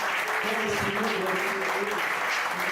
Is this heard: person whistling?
no